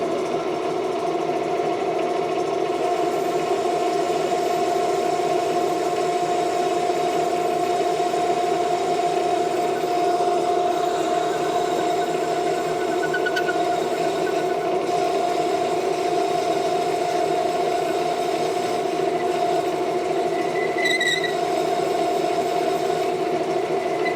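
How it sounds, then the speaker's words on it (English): A metal lathe runs steadily while parting off press plate shims of 1/8 and 3/16 inch stock, a constant whining hum with a faint high squeal near the end, no talk. "I'm all set up here to part these off."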